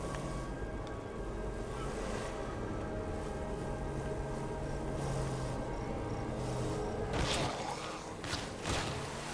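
Vehicle driving in the zombie survival video game State of Decay 2, a steady engine drone with wind-like rushing throughout, plus a couple of brief louder bumps near the end, no talking.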